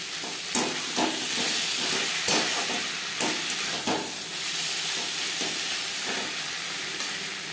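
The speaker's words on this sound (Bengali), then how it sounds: "মশলার সাথে আলু বেশ ভালো করে মিক্স করে দেবো" Potatoes stirred and sautéed with spices in a pan over a low to medium gas flame, a steady close sizzle with repeated scraping strokes of the spoon, no talking.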